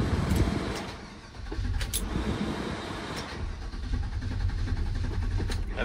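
A 1967-72 Chevrolet C10 pickup cranks and starts, followed by a loud, steady low engine rumble that dips briefly before settling into an even idle, close by with no talking.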